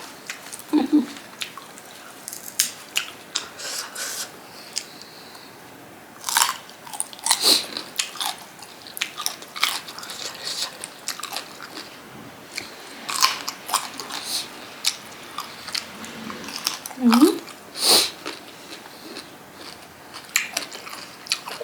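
Crunchy bites and chewing of fresh raw vegetables eaten with Thai fatty beef larb, close and loud, with repeated crisp crunches and wet chewing scattered throughout.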